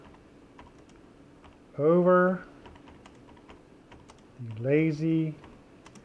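Typing on a Lenovo B590 laptop keyboard: soft, scattered key clicks run through the whole stretch while a person speaks briefly over them twice.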